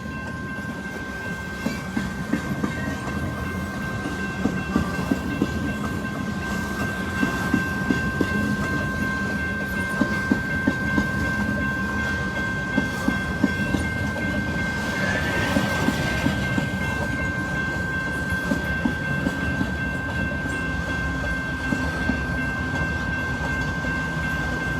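A Norfolk Southern freight train led by diesel locomotive 4422 departs on the Paducah and Louisville Railway in Madisonville, Kentucky, with a loud, steady engine rumble, a continuous tonal whine and repeated clickety-clack of wheels over rail joints.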